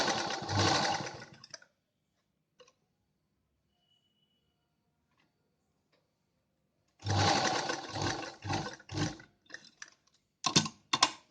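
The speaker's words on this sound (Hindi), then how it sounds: "और यहाँ एकदम किनारे इस जगह पर सिलाई लगा लेंगे।" A sewing machine stitches along the edge of an A-line jacket dress in loud bursts, a long run, then silence, then a long run followed by several short stop-start runs.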